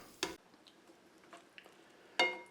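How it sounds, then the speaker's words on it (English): Green and red peppers are stirred into a pepper steak stir fry, with two sharp clinks of a utensil against the pan and faint scraping and soft sizzling between them, close and quiet, with no talking. "So let me stir these in a little bit."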